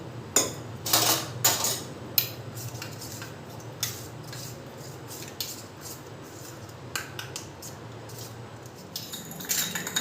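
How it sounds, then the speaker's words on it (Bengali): A kadai being set down on a gas stove, heard as scattered metallic clinks and clanks of cookware, fairly close, with a faint steady hum underneath and no talking. "গ্যাসে একটা কড়াই বসিয়ে দিয়েছি,"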